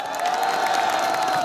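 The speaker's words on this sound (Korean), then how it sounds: "박수 한번 주세요." Rally crowd cheering and applauding steadily, a dense wash of voices and clapping with a sustained tone running through it, loud and continuous for the whole moment.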